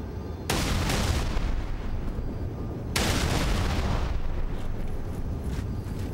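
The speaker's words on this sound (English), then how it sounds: "this is how you really get on top of a building with a brute shot" Brute Shot grenades from Halo 3 blast in quick succession, two big booming explosions with long rumbling tails, loud and near.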